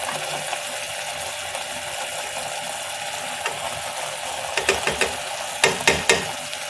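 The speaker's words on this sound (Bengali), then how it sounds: "এখন আমি এই মশলাগুলো কড়ার মধ্যে ঢেলে দিচ্ছি।" Spices for paneer masala go into a hot kadai, setting off a steady sizzle, then a few sharp scraping or knocking strokes near the end, close and fairly loud, with no one speaking.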